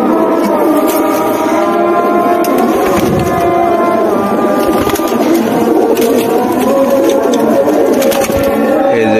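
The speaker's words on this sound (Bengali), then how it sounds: "এটাও একটি মাদি কবুতর।" Pigeons, including female pigeons offered for sale, cooing and calling loudly and continuously close by, with occasional voices of people in the background.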